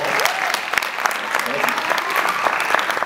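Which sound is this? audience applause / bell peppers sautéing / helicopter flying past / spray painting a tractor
audience applause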